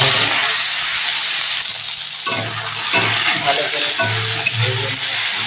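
Okra and potato pieces sizzle loudly in hot oil in a wok, a steady close hiss punctuated by low thuds and scrapes as they are stirred.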